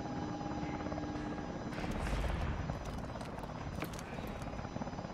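A helicopter in the video game Call of Duty Advanced Warfare holds a steady rotor drone throughout, swelling briefly in the middle, with a few sharp cracks of gunfire scattered over it.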